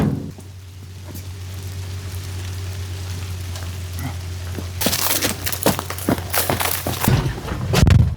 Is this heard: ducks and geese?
no